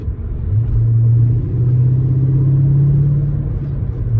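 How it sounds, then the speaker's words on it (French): Audi S6 Plus Avant V8 from 1996 with stainless exhaust, pulling through a brief acceleration in fourth gear, a steady loud low rumble with a rising tone that holds throughout, with no talk over it. "Le souffle du V8, on le sent, on l'entend surtout."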